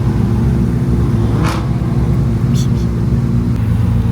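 Several supercars idling and revving together at a gathering in Mauritius before setting off, a loud continuous low engine rumble with brief sharper rev bursts, voices faintly underneath.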